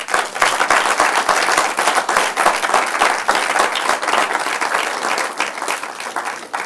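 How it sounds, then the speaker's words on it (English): Sustained audience applause fills a Ghanaian student event hall, dense clapping from many hands held steady and loud throughout, with no voices over it. "A round of applause for him."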